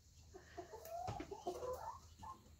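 Chickens cluck softly and intermittently nearby on a small farm, a few quiet scattered calls at low volume without talk.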